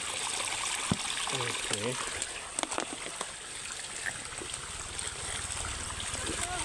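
Natural spring water flows steadily at a freshwater spring in the Philippines, a continuous close trickling rush; a voice speaks briefly over it.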